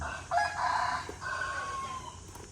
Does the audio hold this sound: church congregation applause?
no